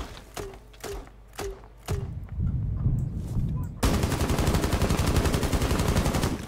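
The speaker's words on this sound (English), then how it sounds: "They shoot explosives into the room to distract the people." Rainbow Six Siege entry devices fire explosive grenades through a wall, giving several sharp gunshot-like bangs followed by a dense, sustained burst of loud rapid blasts and rattling debris.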